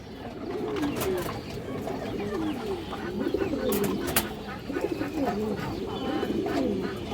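Caged pigeons, including silver khaki birds, coo in repeated soft rolling phrases, close and steady across the whole stretch, with faint talk in the background.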